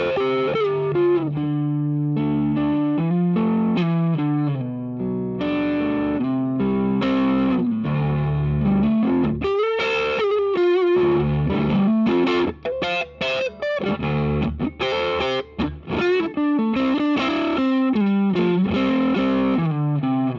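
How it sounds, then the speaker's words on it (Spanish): Electric guitar with single-coil pickups played through a JHS Twin Twelve overdrive pedal, giving a continuous, loud, gritty distorted tone with shifting chords and melodic lines, heard alone without any talking. "Ahora vamos a escuchar este pedal con single coils."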